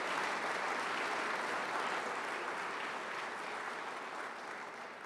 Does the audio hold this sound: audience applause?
yes